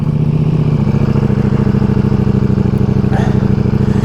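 A Ducati Multistrada Pikes Peak motorcycle engine running, a loud, close, steady pulsing rumble with an even throb and slight mechanical clatter throughout.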